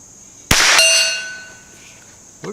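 A single sharp clang rings out as a .22 round from a Ruger American bolt-action rifle strikes a freshly painted steel target, the metallic ring decaying over about a second, followed by a faint knock.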